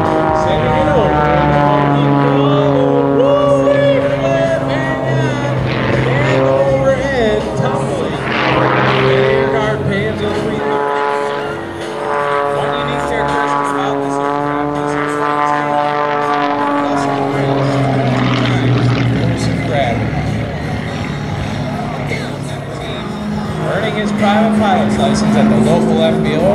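Loud, steady drone of a Panzl 330 aerobatic propeller plane diving and maneuvering at an airshow, engine pitch rising and falling for the full stretch while a commentator talks over it.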